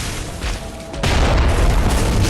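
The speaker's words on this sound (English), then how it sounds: "these guys can shoot fucking cannons" Enemies firing cannons in the Bloodborne video game: a heavy, continuous booming roar that jumps louder about a second in and stays dense and loud to the end, with no talk over it.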